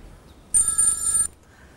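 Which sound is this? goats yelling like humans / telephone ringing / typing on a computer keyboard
telephone ringing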